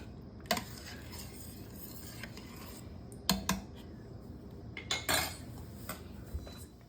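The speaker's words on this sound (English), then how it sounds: "So you just keep on mixing till everything get nicely mashed." Cooked mixed vegetables for pav bhaji being mashed and stirred in an Instant Pot, soft scraping and squelching under several sharp metallic clanks of the utensil against the inner pot.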